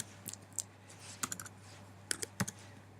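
Computer keyboard keys tapped in short irregular bursts of crisp clicks, fairly close and moderately quiet, with a faint steady hum underneath and no voices.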